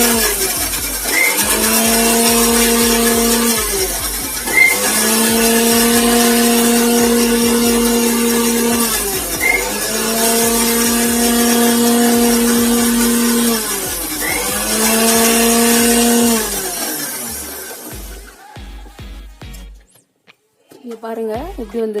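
A mixer grinder blending egg, garlic and oil into mayonnaise: several loud whining pulses of a few seconds each, rising and falling in pitch, then a rattling stop near the end.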